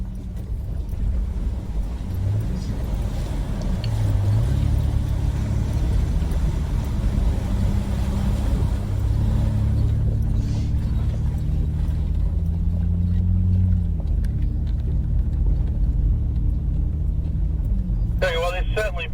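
A 4WD Nissan Patrol drives through a river crossing in Victoria's High Country, its engine droning low and steady with shifting pitch throughout, close and continuous, with a brief sharper clatter near the end.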